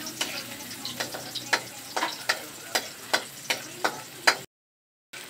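Food browning in a frying pan while being stirred, with a steady sizzle broken by regular sharp scraping strokes about twice a second, close and clear, ending in a brief dropout.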